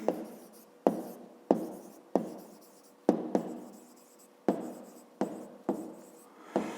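A pen writes on paper during a math lesson in a series of quick scratching strokes, each starting sharply and fading, close and fairly quiet with no talking.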